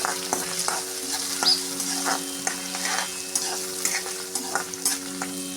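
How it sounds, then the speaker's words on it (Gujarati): Ginger garlic paste and green chilies stirred in a hot pan for a Gujarati village-style bottle gourd and chana dal dish, a steady sizzle broken by regular scraping stirs close by. "આદુ લસણની પેસ્ટ નાખીશું બે ત્રણ લીલા મરચાં નાખીશું મિક્સ કરી લઈએ"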